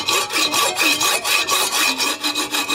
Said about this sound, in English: Try and hold the camera and saw this off here.